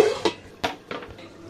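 A lid clanks onto a metal pot of koi fish curry simmering with potato and tomato: three sharp metallic knocks spaced about a third of a second apart, close and fairly quiet.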